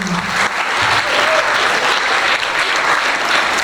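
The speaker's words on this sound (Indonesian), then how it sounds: "Beri tepuk tangan yang meriah untuk tamu kita hari ini." An audience at an alumni sharing event applauds loudly for a guest, with brisk, dense clapping that holds steady through the short stretch.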